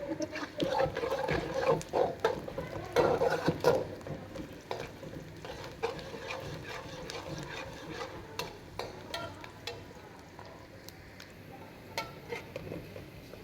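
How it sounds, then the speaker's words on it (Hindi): Onions frying in half a cup of hot oil in a pan for a dal dish, a steady soft sizzle with occasional stirring clinks, louder at first then settling into a quieter crackle. "प्याज हमारे हल्के से फ्राई हो गए हैं"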